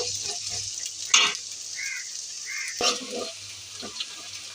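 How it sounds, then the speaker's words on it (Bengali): Onion, garlic and green chili sizzle in hot oil in a wok, a steady close frying hiss with a few louder stirring clatters. "এখন এগুলো ভালোভাবে ভাজতে হবে।"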